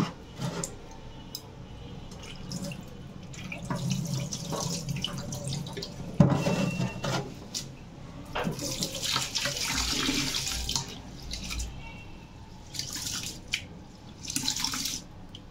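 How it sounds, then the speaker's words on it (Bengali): Running tap water splashes over rice, lentils and green peas being rinsed in a kitchen sink, a close, continuous trickle with intermittent sloshing and clinks as the grains are stirred. "চাল ডাল আর মটরশুঁটি পরিষ্কার করে আমি ধুয়ে"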